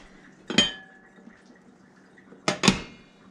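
Two brief scrapes and clinks of a utensil stirring beef bourguignonne sauce and vegetables in a pot, about two seconds apart, close and fairly quiet against a low steady background.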